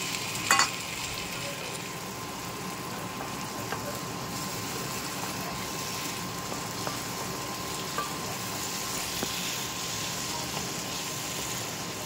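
Mustard paste sizzling and frying in a pan of spiced masala for a rohu fish curry, a steady continuous hiss with light stirring, a sharp clatter near the start and faint knocks later, no talk.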